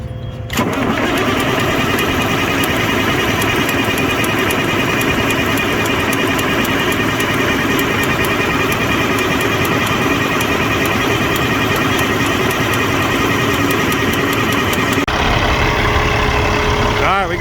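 A diesel truck engine turns over and fires, then holds a loud, steady, clattering idle close by for over a dozen seconds before the tone shifts near the end.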